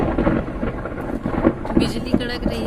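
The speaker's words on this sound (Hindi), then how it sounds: "बिजली कड़क रही है बहुत ज़ोरों ज़ोरों से" Thunder rumbles through a heavy rainstorm, with low booming rolls and steady rain noise filling the background, fairly loud and close, with no talking.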